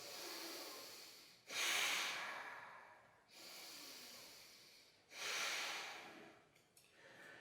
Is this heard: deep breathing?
yes